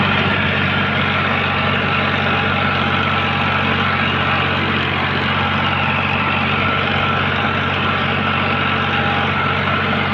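A Farmtrac 60 EPI T20 tractor pulls a harrow through soil with its tyres slipping, giving a loud, constant engine drone that holds steady without any speech.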